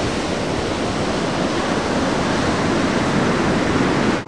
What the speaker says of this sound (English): I went out to this Pacific Ocean beach, right near the mouth of the river